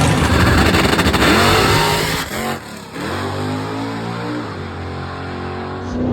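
A COPO Camaro makes a drag racing pass, its V8 roaring loud and close through rising revs with a brief lift around the middle, then continuing at a steady drone as it pulls away.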